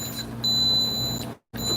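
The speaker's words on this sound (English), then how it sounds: "Why is this beeping on me?" An electronic device emits a steady high-pitched beep, continuous apart from a brief gap near the end, over low electrical hum, during a live stream.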